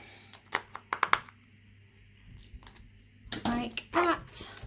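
Scissors snip roughly around a paper planner corner, a few quick sharp cuts in short bursts with pauses between, close and fairly quiet.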